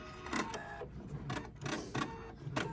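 A Husqvarna Viking sewing machine stitches a jeans hem, running in short bursts of rapid mechanical needle chatter with brief pauses between, close and fairly quiet, no talking.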